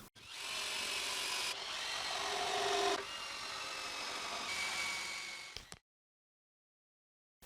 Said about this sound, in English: I drill all the guide holes I need.